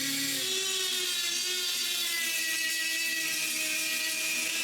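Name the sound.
rotary brass brush cleaning a wooden goose carving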